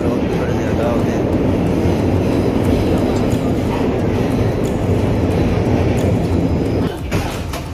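Loud, continuous rumble and roar of a Milan metro train in motion, steady throughout with a slight drop near the end.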